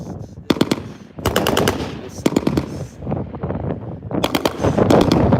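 An M240L machine gun fires in bursts on an outdoor range lane, loud rapid chattering volleys in several groups with wind rumble between them and no clear talking.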